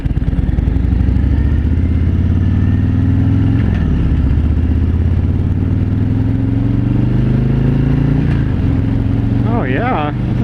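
A 2017 Harley-Davidson Road King Special rumbles along at a loud, steady, deep engine drone, its pitch shifting with the throttle. A rider talks over it, and wind noise is present.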